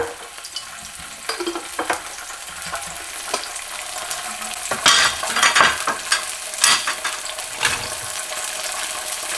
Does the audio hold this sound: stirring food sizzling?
yes